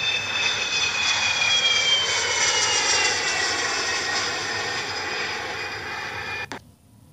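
A JetBlue airliner on a flight to Guayaquil, Ecuador fills the cabin with a steady, loud jet engine drone and a high whine that holds evenly before cutting off abruptly near the end.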